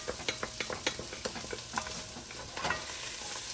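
Garlic and thyme sauté in a pot for a one-pot pasta, a bright close sizzle with rapid scraping and stirring clicks from a utensil, steady and moderately loud with no talking.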